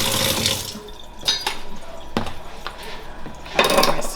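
Black beans are rinsed under running tap water in a kitchen sink, a steady close hiss and splash with a few knocks and clatters, and no talk.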